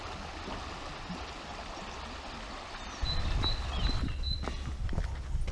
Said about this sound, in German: die Frimm, die fließt bei Worms in den Rhein